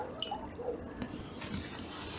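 About five litres of water being poured into a cauldron set on a homemade adjustable-flame stove; soft, faint splashing and dripping, quiet and close, with no talking.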